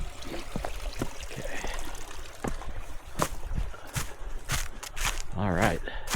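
Brown Mountain Creek runs over rocks in a steady trickling, babbling wash along a hiking trail, heard close beside footsteps and brushing movement, with someone speaking briefly.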